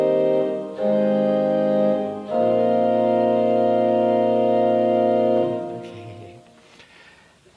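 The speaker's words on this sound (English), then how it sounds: "Manz gives us some harmonies out of the 20th century, chords that are going to sound like this" Pipe organ sounding sustained 20th-century-style chords from a Paul Manz setting of Be Thou My Vision, full held harmonies with a brief break and rearticulation, then fading into room reverberation; no voices.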